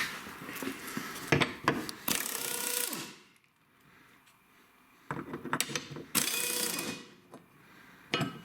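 Ratchet wrench unbolting a car subframe, heard as two long bursts of fast mechanical clicking and whirring with sharp knocks between them, separated by a quieter pause.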